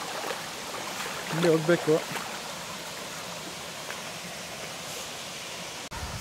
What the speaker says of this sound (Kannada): ಕಾಣಿಸ್ತಿರ್ಬೋದು ಅಲ್ಲೇ ವಾಟರ್ ಫಾಲ್ಸ್ ಕಾಣಿಸ್ತಿದೆ